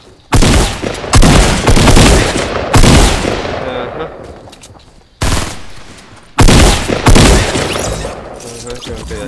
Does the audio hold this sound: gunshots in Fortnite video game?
yes